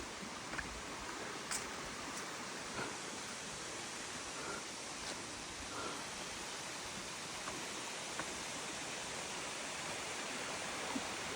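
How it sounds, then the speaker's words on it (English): Waterfall at Mt. Carmel in Granada pours as a steady, faint broadband rush of falling water, unbroken and even throughout with no voices. "the waterfall is right around the corner"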